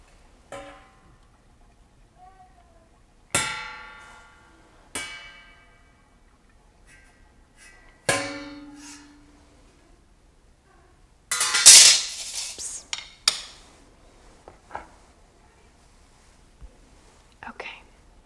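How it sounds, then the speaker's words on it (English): Home-canned jars of raw-pack ground beef and chicken, fresh from the pressure canner, give several sharp metallic lid pops spaced a few seconds apart in a quiet kitchen, with soft handling clatter and low talk in between. "They're already starting to seal. That's a good sign. I love the popping sounds."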